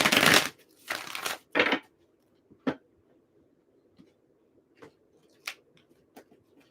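Cards are shuffled in a few quick riffling bursts, then scattered soft taps and flicks follow in a quiet room.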